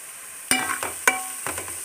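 Spices and asafoetida are tempered in hot oil in a pan while being stirred, with a couple of sharp metallic scrapes of the spoon over a low, steady sizzle, close up and without talking.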